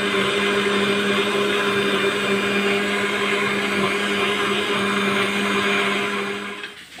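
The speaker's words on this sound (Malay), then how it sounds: "Kemudian kita blender bahan-bahan ini." An electric blender runs continuously, blending the sauce ingredients for chicken rice with a loud, steady whirring hum at close range, then winds down at the end.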